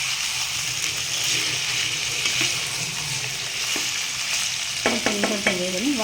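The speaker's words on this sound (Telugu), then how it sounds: "చికెన్ వేగిన తర్వాత పసుపు వేస్తాం" Pieces of broiler chicken fry in a pan with a steady sizzle and bubbling, stirred now and then with scraping clicks. Near the end, brief rhythmic squeaky tones rise over the frying.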